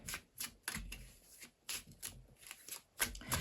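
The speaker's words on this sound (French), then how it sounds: "Je tire une autre carte." Cards are handled and drawn from a deck in a series of soft papery slides and flicks, close and fairly quiet, with brief rustling bursts at irregular intervals.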